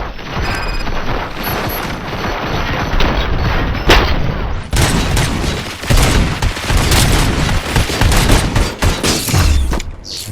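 Dense bursts of gunfire with booming impacts in a RoboCop: Rogue City shootout, loud and continuous with rapid automatic fire and heavy blasts throughout, faint voices briefly under the din.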